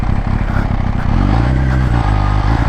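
Kawasaki H2 motorcycle revving hard at night, a loud close engine roar rising in a rapid pulsing rhythm as it accelerates, heard alone and without a break.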